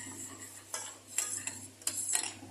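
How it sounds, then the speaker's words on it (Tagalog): A utensil stirs caramelizing sugar in a pan for date candy, producing soft, faint, irregular scrapes and clinks against the metal over a low steady background hum. "Ayan po ang ating caramelize. Haluin lang ng haluin"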